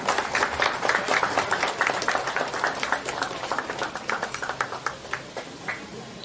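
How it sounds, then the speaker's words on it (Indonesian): Steady applause from a sizable gathering at a groundbreaking ceremony in Lubuk Linggau, Indonesia, many hands clapping continuously at moderate volume throughout. "Sekali lagi mari kita berikan tepuk tangan yang meriah."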